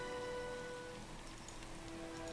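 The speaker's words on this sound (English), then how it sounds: "Heavy rain and clouds going down here." Steady rain patters continuously in the video game Pillars of Eternity 2 Deadfire, a soft even hiss with faint droplet ticks and a low sustained ambient tone underneath.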